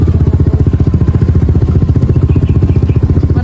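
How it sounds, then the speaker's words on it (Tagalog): A motorcycle engine runs close by with a fast, even putter, holding a loud, steady beat throughout as the bike is ridden. "Bali doon na lang kami sakay sa motor ni John Rhea"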